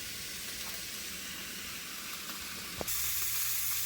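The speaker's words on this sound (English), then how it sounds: "Alright, so I got my veggies cooking nicely" Vegetables for a vegan Panang curry cook in a pan, giving a faint, steady sizzling hiss that turns brighter and slightly louder near the end.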